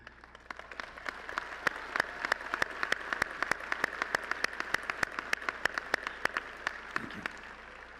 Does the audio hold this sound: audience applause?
yes